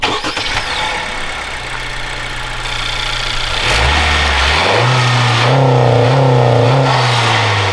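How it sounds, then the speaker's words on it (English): An 11th-generation Honda Civic engine with a PRL Stage 1 intake starts, idles, then revs up several times in rising and falling surges, loud and close. "Go turn on the car, give it a few revs."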